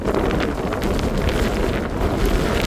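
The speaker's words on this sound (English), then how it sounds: "It's very windy." Strong wind roars steadily across the microphone near the summit of Causey Pike in the Lake District, a constant heavy buffeting rumble with no voices, loud and close throughout.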